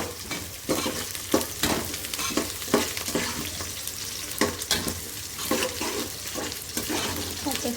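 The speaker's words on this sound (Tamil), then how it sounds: "வெங்காயம் ஓரளவு வதங்கி வந்துட்டு" Onions sautéing in a pan for a river fish curry, with repeated stirring scrapes over a steady sizzle, close and moderately loud.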